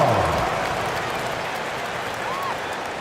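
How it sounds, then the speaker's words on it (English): Arena crowd applause and cheering in the NBA 2K24 basketball game during a timeout, a steady broad wash of clapping and crowd noise lasting throughout. "Let's give them a big round of applause."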